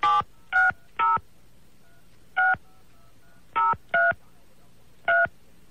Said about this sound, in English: I'm going to dial him up here.